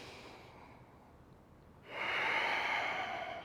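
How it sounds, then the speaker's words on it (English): Steady, audible breath during a yoga flow held in a high crescent lunge, a soft airy inhale swelling from near silence and then sustained, close and alone with no talk. "Just 3 breaths in."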